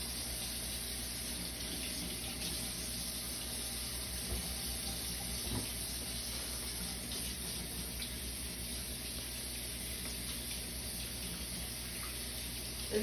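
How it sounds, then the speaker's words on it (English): Running tap water pours steadily into a sink as hands are washed with the aseptic technique in a pharmacy practice lab, a continuous close hiss with no talking. "And now I'll be washing my hands using the aseptic hand washing technique."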